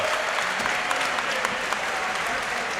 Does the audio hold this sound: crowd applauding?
yes